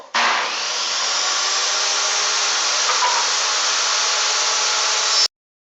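A table saw cuts through a wooden board for framing a generator enclosure roof, giving a loud, steady whine that holds for about five seconds and then stops abruptly.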